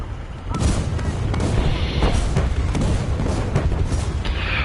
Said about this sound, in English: I have launched artillery